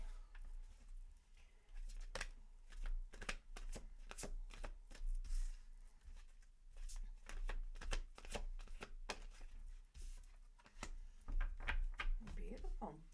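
Tarot cards being shuffled by hand, a quiet series of quick papery riffles and soft slaps in irregular bursts, close to the microphone with no talking over them.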